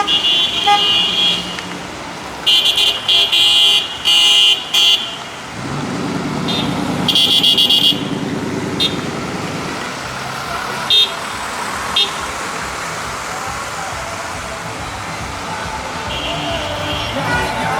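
Cars and trucks in a Freedom Convoy in Petersburg, Alaska roll past on a loop road, with repeated loud horn blasts in bursts over continuous traffic rumble nearby.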